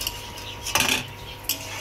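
A metal lid lifted off a pot of simmering rui fish curry, giving a clear clink at the lift and a second short metallic tap soon after, close and fairly loud over a low kitchen hiss.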